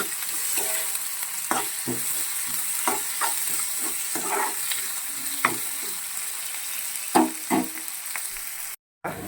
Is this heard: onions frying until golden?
yes